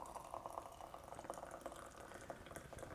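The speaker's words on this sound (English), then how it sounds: "In goes the water." Water pours over dusty, dark green tisane leaves, a soft continuous splashing trickle, faint and close, with no talk.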